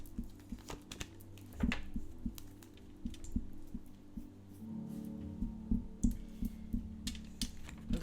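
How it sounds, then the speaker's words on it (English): A tarot card deck is shuffled by hand, giving soft, irregular riffling taps and flutters close up in a quiet room, without speech. "Last shuffle."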